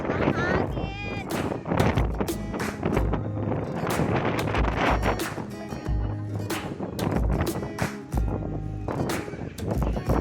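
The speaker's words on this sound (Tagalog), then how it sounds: "Ang hangin." Wind blows hard across the microphone in Laurel, Batangas, with loud, continuous buffeting and thumping gusts under scattered talk.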